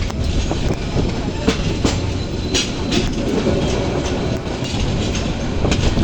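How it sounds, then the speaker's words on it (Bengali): Passenger train running at full speed, heard from inside a carriage: a steady, loud rumble of wheels and rail noise with faint rhythmic clicks throughout, no talk. "গাড়িটা এখন হচ্ছে পুরা দমে ছাড়তেছে"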